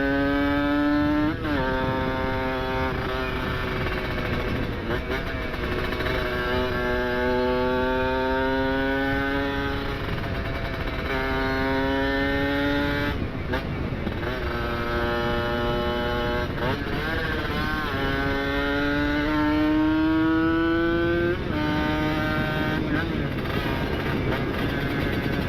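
Two-stroke motorcycle shifting down through the gears under engine braking, its loud nasal engine note stepping up and falling away repeatedly as each lower gear catches, close and continuous throughout.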